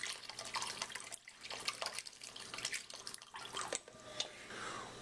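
Costco chicken stock pours into a pot of stuffed artichokes, a soft, faint splashing and trickling pour with a few drips and pauses, heard close.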